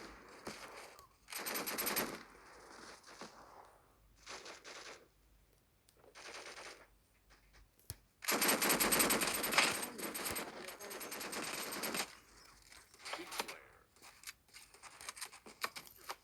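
Gunfire from the mobile shooter game Battle Prime crackles in repeated rapid automatic bursts of varying length, some long and sustained, separated by short gaps, with no talk over it.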